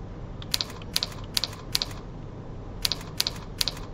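Keys clack on a computer keyboard in two short bursts of a few quick strokes each, with a brief pause between them, heard close up and alone against quiet room noise.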